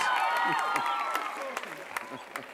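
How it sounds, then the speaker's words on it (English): TV studio audience applauding a drummer at an American Bandstand taping, a dense sustained wash of clapping and crowd noise with voices and cheers mixed in, easing slightly toward the end. "Anyone would like to applaud him? I think we should."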